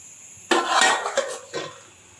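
A spoon scrapes and clanks against a cooking pot of Chettinad chicken gravy, a burst of stirring followed by two shorter knocks, close and fairly loud with no talking.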